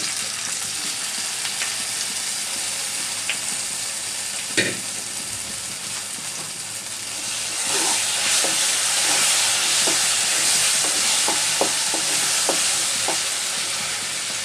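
Taro leaves dropped into a hot pan with oil and bay leaf, a steady frying hiss that swells louder midway as the greens go in, with a sharp clank and scattered stirring clicks.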